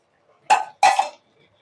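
Two quick metallic clatters, close and fairly loud, as a pan of curry with green chillies is flipped and shaken at a home stove, the second scrape a little longer than the first.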